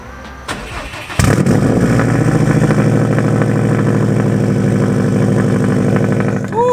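A loud tuned Nissan 370Z starts up, then idles with a heavy, rumbling, throaty exhaust that stays steady and close for several seconds, with no talking over it.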